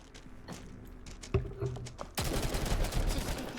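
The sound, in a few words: gunfire in a video game (GFL2)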